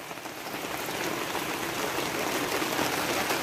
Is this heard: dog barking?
no